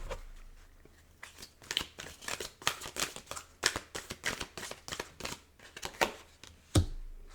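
Mermaid-themed oracle cards being shuffled by hand, a run of quick, close papery riffles and soft snaps repeating in bursts for several seconds, with one sharper slap near the end and no talking.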